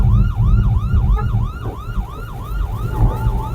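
Ambulance siren wailing in repeated rising-and-falling sweeps, close and loud, over the rumble of road traffic, with no voices.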